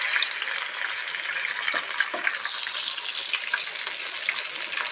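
Fish sizzles steadily in hot grease in a skillet, a bright continuous crackle with small pops, frying crispy, with no talking over it.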